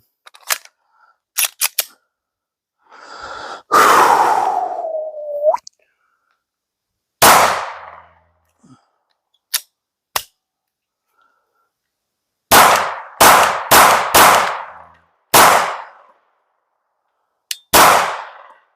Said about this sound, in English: So let's throw some more rounds downrange